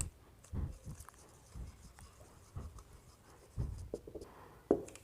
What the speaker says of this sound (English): So let me write.